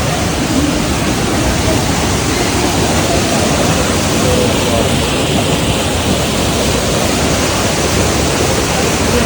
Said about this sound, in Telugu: వాటర్ ఫ్లో అవుతున్న సౌండ్.